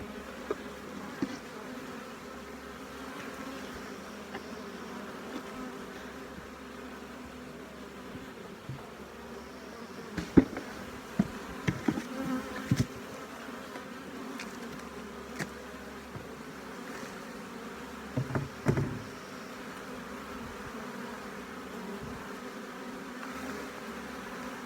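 Honeybee colony humming steadily at an open hive while a small nuc is being checked, a faint continuous drone with occasional close clicks and knocks from hive handling.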